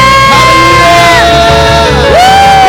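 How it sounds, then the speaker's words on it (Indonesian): A church congregation at Sunday worship shouts hallelujah together, a loud, sustained mass of voices with rising whoops and yells swelling near the end. "sorakan haleluya"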